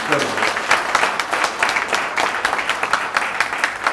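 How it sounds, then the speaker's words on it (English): An audience at a keynote speech applauds steadily, dense clapping filling the space without a break for several seconds. "So please join me in giving an applause for Joyce for all that"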